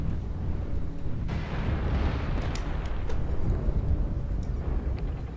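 Missile impacts rumble through a battle in MechWarrior Online, a continuous low, heavy roar with scattered sharp bursts and crackles, fairly distant and steady without clear gaps.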